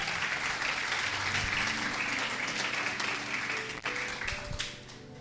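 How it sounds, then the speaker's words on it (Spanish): Congregation applauding at a church service, a dense steady wash of many hands clapping that carries through the whole stretch, with a brief dip and a few sharper claps near the end. "Otro aplauso para el Señor."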